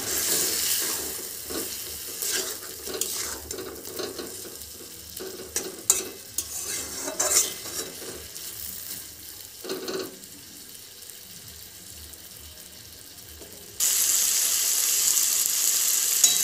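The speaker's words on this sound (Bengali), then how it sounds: "টমেটো দিয়ে এটাকে ভালো করে আমি কষিয়ে নেব" Chicken being stir-fried with tomatoes in a pan, a close sizzle with repeated scraping stirs and clatter that fade near the end into a steady hiss like running water.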